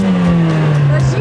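A cold car engine running in winter outside an amusement park, a steady low droning hum with a slowly falling pitch, close and loud, with voices talking over it.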